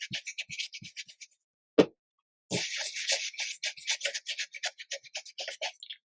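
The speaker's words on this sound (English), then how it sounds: "We'll just go ahead and stencil the top here. I'm using Distress Oxide Vintage Photo." Dabbing strokes of a foam blending tool applying Distress Oxide Vintage Photo ink through a stencil on a bookpage pocket journal, close, soft rhythmic scrubbing taps in quick bursts with a brief pause and one louder thump.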